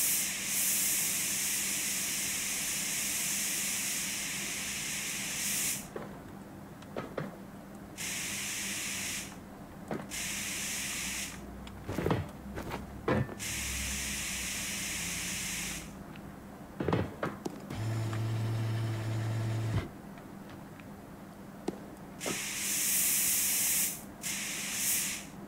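Spray paint hisses in bursts onto truck parts in a truck-building video game for a six-door Dodge 3500, loud steady sprays broken by short pauses and a few clicks, with no voices.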